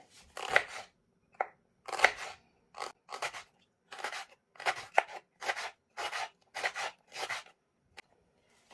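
Peppers for a chickpea stew are cut with about a dozen crisp, separate cuts at an uneven pace, close up and quiet against silence.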